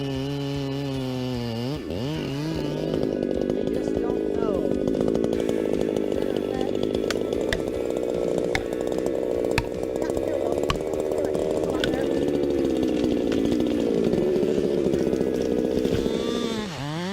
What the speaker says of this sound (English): fastest chainsaw felling tree down skills